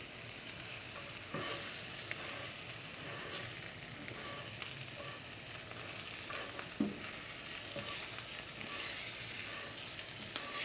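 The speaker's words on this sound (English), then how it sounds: "Leftover butter, let's add here." Butter sizzling steadily in a pan under a kimchi grilled cheese, a dense continuous frying hiss with occasional small pops, close and even throughout.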